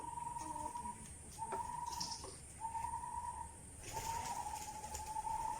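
Pigeons coo in low, repeated phrases over a steady background hum at a pigeon farm, the calls coming in several drawn-out bursts.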